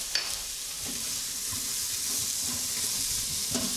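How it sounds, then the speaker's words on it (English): Carrots, pepper and onion sauté in an Instant Pot with a steady, close sizzle and faint stirring scrapes throughout, with no talking. "Let's throw in our carrots, pepper, and onion."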